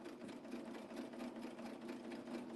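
Serger sewing machine stitching and trimming fabric on a pillow project, a rapid steady mechanical chatter with a low hum, running continuously at an even pace and close by, with no voices.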